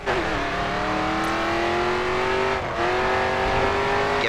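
Race car drifting through a corner in Race Driver GRID 2, a sustained engine drone with a slight pitch rise and a brief tyre-scrub hiss midway, loud and close throughout with no voices.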